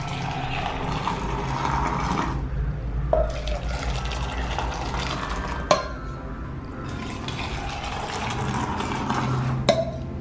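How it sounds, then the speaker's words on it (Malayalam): Strained Kerala milk tea streams back and forth between vessels to cool, in three long pouring passes separated by short gaps and metallic clinks. "2 വട്ടം നമ്മൾ ഇത് ആറ്റണം."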